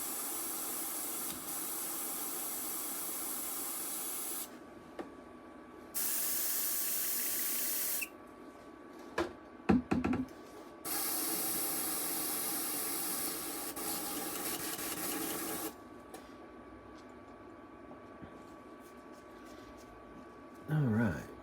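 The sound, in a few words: airbrush spraying paint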